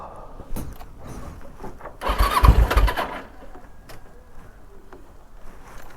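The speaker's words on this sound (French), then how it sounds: "Et du coup, le moteur, il a repart." A motorcycle engine sputters and catches in a loud burst, revving briefly before dropping back to a rough idle.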